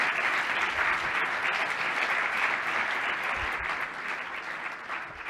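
Sustained applause from a conference audience after a startup careers talk, a dense even wash of many clapping hands, steady and fairly loud throughout, fading slightly near the end.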